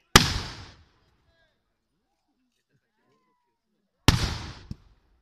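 Two heavy cannon blasts at a medieval festival battle reenactment in Corroy-le-Château, booming a few seconds apart, each a sharp crack that rolls off into silence.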